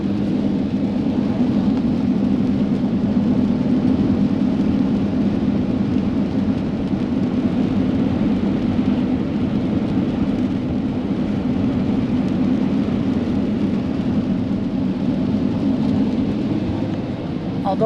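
Steady rain drumming on a vehicle driving along a green, wet roadside near old Valdez, Alaska, a constant broadband wash over a low road and engine rumble, continuous and fairly loud throughout.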